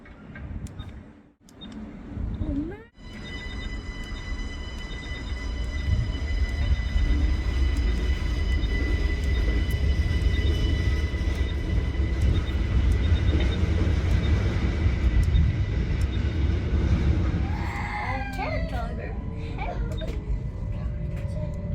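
A passenger train pulls into a station, its low rolling rumble swelling after a few seconds into a loud, sustained roar with a steady whine. Squealing brakes come near the end, with faint voices in the background.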